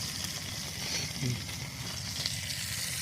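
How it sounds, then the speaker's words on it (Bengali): Crocodile meat fries in a pan with a steady, fairly soft sizzle and crackle, an even hiss running throughout with faint pops and a bit of stirring. "এই যে এটা কিন্তু কুমিরের মাংস আপনারা দেখতে পাচ্ছেন। এই যে এখানে কিন্তু ভাজা হচ্ছে"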